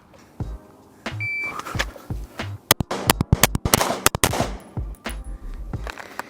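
Pistol shots fired on an Accelerator Drill course, a beep followed by rapid bursts of sharp, loud close gunshots in quick clusters, with brief pauses between strings.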